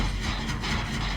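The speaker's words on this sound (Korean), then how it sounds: "전기톱 소리 났어." Chainsaw in the horror game Dead by Daylight, heard as a loud, steady, coarse mechanical drone that holds without a break for about a second.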